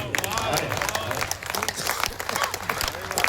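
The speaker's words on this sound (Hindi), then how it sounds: "अब ताली उसी आ जानी चाहिए" Audience at a Hindi poetry recital breaking into a burst of loud, dense clapping, close and continuous throughout.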